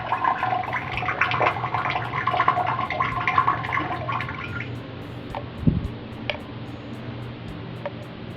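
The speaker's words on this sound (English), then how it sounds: "the water that was filled in it will start draining out" Water drains from a bidet tank after its release lever is pushed, a steady trickling wash for about four seconds that thins out, followed by a brief gurgle and a few faint drips.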